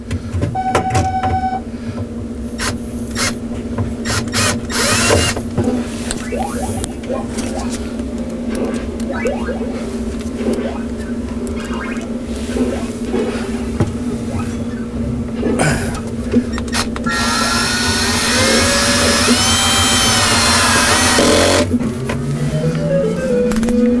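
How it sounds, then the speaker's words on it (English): A power drill in drill mode drives a screw into a Williams Robotron arcade cabinet during a power supply adapter install, whirring in long steady runs with a rising motor whine near the end, close and loud, with some talk. "Put it on drill mode so we get endless torque"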